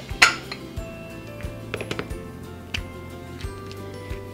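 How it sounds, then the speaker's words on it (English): A bowl is set down on a table, giving one sharp clink early on, followed by a string of lighter taps and small glassy knocks as the containers are moved around. "Let me get another bowl here."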